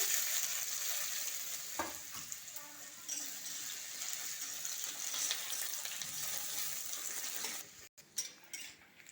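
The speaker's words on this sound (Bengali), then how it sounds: "পেঁয়াজটা একবার লাল লাল করে ভাজা হয়ে গেছে" Chopped onion sizzles steadily in a hot pan for a home-cooked chicken curry, with a constant bright hiss, occasional stirring clinks and a brief break near the end.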